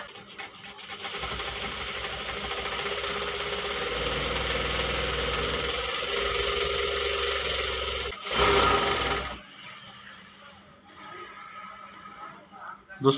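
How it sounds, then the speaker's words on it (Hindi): A Kansai sewing machine runs steadily up close with a continuous mechanical whir and knock, briefly surging louder near the end of the stretch. "ये सिलाई मशीन बिल्कुल सही कर रही है"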